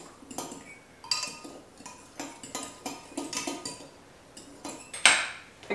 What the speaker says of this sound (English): Now let's mix all of our ingredients.